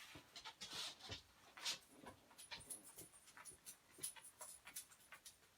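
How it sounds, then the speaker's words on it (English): A dog trots and pants nearby, quick breathy puffs and faint clicking paw steps in an irregular rhythm, soft and close. "You might hear the trot, trot, trot of my dog Lucy is running around right now"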